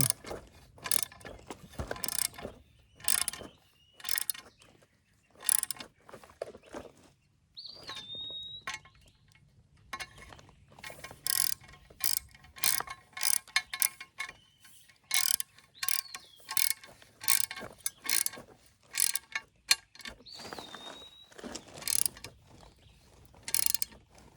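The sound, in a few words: ratchet tightening bolts on Nissan Maxima engine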